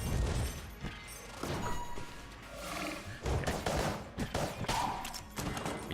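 Rapid gunfire from the roguelike shooter Enter the Gungeon, a dense stream of quick shots, pops and crashes layered with game music at moderate volume.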